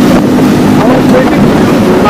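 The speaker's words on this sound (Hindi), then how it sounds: "ठंडी हवा चल रही है, बारिश हो रही है" Steady wind buffeting the microphone during a rainy ride on a Yulu electric bike with friends, a constant loud broadband rush throughout with faint voices underneath.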